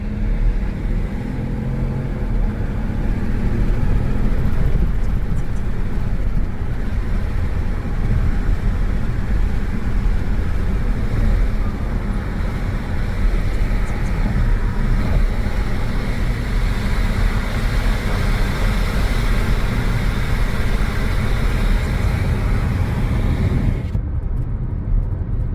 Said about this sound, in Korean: 제가 창문을 열고 한번 급가속을 해볼게요.